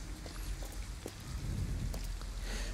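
Rain falls steadily in Detroit: Become Human outside an abandoned house, a dense, continuous wash of drops with a low rumble underneath, holding at an even loudness throughout.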